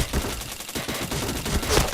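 Rapid gunfire from a shooting video game rattles out in a quick close burst of sharp repeated shots over about two seconds.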